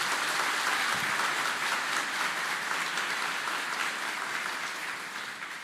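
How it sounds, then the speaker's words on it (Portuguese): Applause from a church congregation at a sermon, dense and steady clapping filling the room, fading slightly toward the end. "Aplaude a pessoa que está do seu lado."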